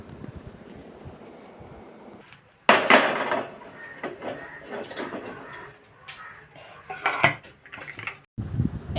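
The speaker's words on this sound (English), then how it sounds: "add 22 numbers of Goan red dried button chilies and toss it for 30" Goan red dried button chilies tossed in hot oil in a cooking pan, giving bursts of scraping and clattering from pan and utensil with broadband sizzle, pausing briefly between tosses, close and moderately loud.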